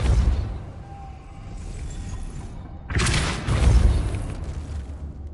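A Depulso spell is cast in a Harry Potter video game, a loud booming burst that erupts partway through over a rumbling game background, with no talk.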